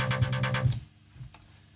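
A Virus synthesizer track recorded in Cubase plays back a loud, pulsing, distorted synth pattern of rapid rhythmic stabs that cuts off abruptly after under a second, followed by a couple of faint clicks.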